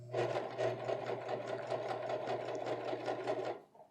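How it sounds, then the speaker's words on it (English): A sewing machine stitches pleated high-waisted pants in a steady, fast run of rhythmic needle strokes, close and even for several seconds before stopping abruptly, with no talking. "And now I just go ahead and stitch it on."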